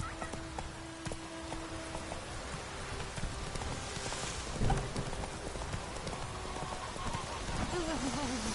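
Roach the horse trotting in The Witcher 3, a steady run of hoof clip-clops under continuous rain-like ambient noise, with a faint whinny near the end.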